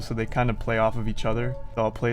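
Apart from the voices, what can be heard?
No everyday noises stand out.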